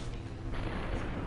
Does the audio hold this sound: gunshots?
yes